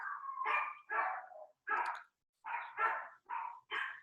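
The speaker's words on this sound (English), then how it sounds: "can you hear the dogs in the background?" Several dogs bark and yap in quick bursts, about eight sharp yelps in irregular rhythm, clear and fairly close against silence.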